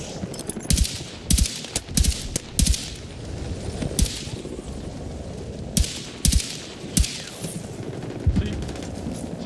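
Rapid bursts of gunfire and sharp sniper shots ring out in a shooter video game, irregular cracks of varying loudness over a busy background, with no speech.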